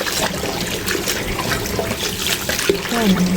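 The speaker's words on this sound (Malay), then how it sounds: "Nasi impit tadi dibasuh dulu." Nasi impit rice cakes are washed and squeezed by hand in water, a close, splashy sloshing with a brief trickle near the end.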